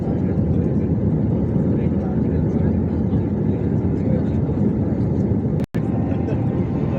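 A steady, loud roar of a Vistara Airlines airplane engine, heard from inside the cabin as the aircraft descends to land at Bengaluru, with a brief dropout near the end.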